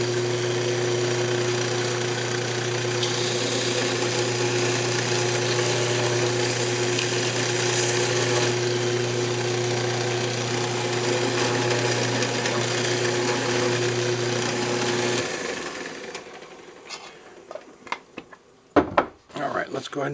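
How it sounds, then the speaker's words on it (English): Wood lathe spinning a turned wooden hamburger press, a steady motor hum with a constant tonal whine for most of the time, then winding down into scattered knocks and handling clatter. "I'll go ahead and part it off and spin it"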